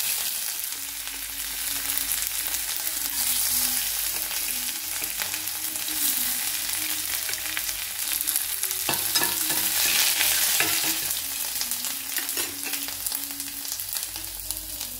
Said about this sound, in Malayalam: പാൻ ചൂടാക്കി അതിലേക്ക് 2 ടീസ്പൂൺ വെളിച്ചെണ്ണ ഒഴിച്ചു, 1/2 ടീസ്പൂൺ കടുകിട്ടു, 1 ടീസ്പൂൺ ഉലുവ ഇട്ടു